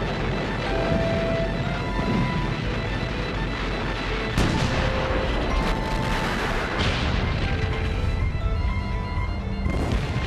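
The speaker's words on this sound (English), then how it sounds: "The Germans hit the British with 1 million shells in just 5 hours." Shelling in a 1918 bombardment of British lines pounds continuously, with dense overlapping booms and crashes forming a loud, unbroken rumble and sharper blasts punching through at intervals.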